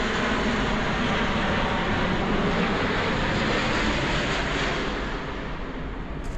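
A low-flying airplane passing near Heathrow Airport, a steady broad engine roar that stays loud throughout and eases slightly toward the end, with no talking.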